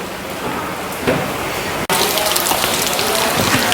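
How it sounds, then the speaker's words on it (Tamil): Steady rain pours outdoors in Colombo, Sri Lanka, a loud continuous hiss of drops on surfaces with a brief break midway, no talking. "வெளியே மழை பெய்யுது"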